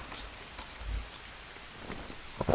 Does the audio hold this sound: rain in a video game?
yes